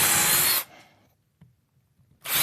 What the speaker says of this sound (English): just listening to some drilling